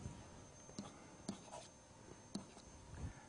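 Someone writes negative 3 squared by hand, producing faint, close scratches and taps of a pen or pencil in a few short strokes with small pauses, with no voice.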